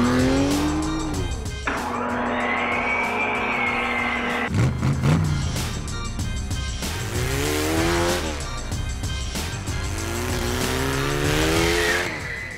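A car is driven hard in a video game, its engine revving up and down loudly and continuously with tire squeals and skids throughout, and no voices over it.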